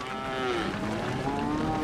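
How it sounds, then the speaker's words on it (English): Cattle in a herd low and moo in long, overlapping calls, loud and close, with no talking. "One cow gets scared, and that fear just translates to the whole herd, and they all take off."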